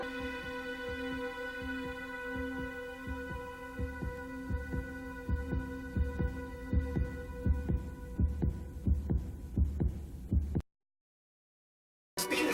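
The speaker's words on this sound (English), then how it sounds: "at the end, the very end, we get like the heartbeat, boom, boom, and a fetus" At the very end of a movie, a heartbeat thumps in a steady, booming rhythm over a low droning hum, building slightly in strength before cutting to silence near the end.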